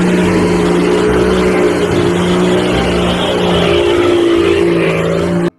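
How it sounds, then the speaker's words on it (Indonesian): A toy off-road car's motor runs loud and steady, a continuous droning buzz with a strong low hum that holds unbroken for about five seconds, then cuts off abruptly. "mobil off-road"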